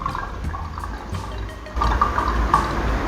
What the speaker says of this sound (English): Pour some in here.